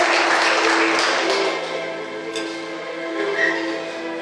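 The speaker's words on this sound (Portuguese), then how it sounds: "eu gostaria que você desse mais uma salva de palmas para Jesus" Church congregation applauding for Jesus during a Brazilian evangelical service, a loud burst of clapping that gradually fades and thins out over a few seconds, with a background organ-like drone.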